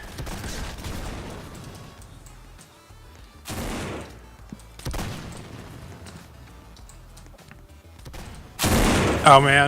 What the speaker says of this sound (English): You can destroy the map with the mortar very slowly.